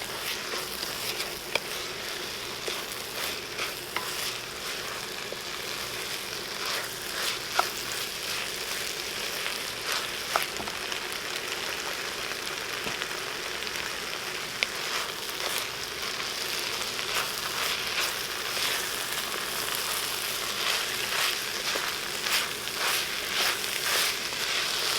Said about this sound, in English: I'm going to saute that a little bit, add a little bit more olive oil